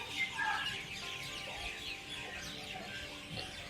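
Birds foraging for insects in park greenery give short clucking and chirping calls over a soft outdoor background, with a louder burst early on.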